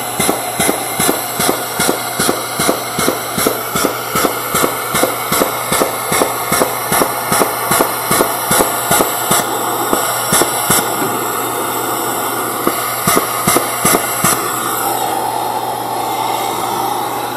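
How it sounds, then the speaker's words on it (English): An Injectiweld plastic welder runs a bead around the top of a polycarbonate part. A steady mechanical hum carries a quick, regular train of sharp clicks that fades toward the end, with no talking. "we're going to use our Injectiweld and put a little bead of material around the top"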